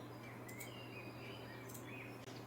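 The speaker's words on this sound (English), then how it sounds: "Can you hear the birds?" Birds call outdoors in short high chirps scattered over a steady low hum, with insect-like trills woven through the background.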